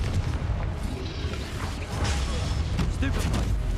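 A Confringo blasting spell explodes in Hogwarts Legacy, a booming burst with crashing, mechanical combat effects around it, under a steady layer of game noise.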